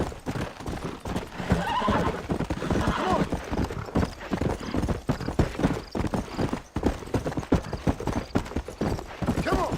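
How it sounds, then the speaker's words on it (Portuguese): Horse hooves clip-clop rhythmically in Red Dead Redemption as the horse runs, with loud neighs and whinnies breaking in, while someone talks over the gameplay. "Esse cavalo aqui é maluco."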